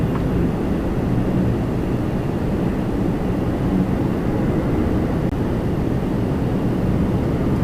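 De Havilland Dash 8 turboprop airliner coming in to land: a steady, broad low rumble of engine noise holding at constant loudness throughout, fairly close, no talking.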